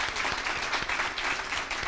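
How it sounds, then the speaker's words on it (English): An indoor audience at a nursing school gift announcement applauds in steady, fairly dense clapping that holds throughout at moderate loudness, with no one speaking over it. "I think that's worth a round of applause,"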